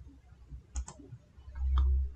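A few mouse clicks while working in Microsoft Word, a close pair of sharp clicks followed later by another, set against a low room rumble.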